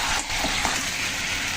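Crab and fried potatoes sauté in spices in a pan, giving a soft, steady sizzle with faint stirring scrapes, brief and fairly quiet.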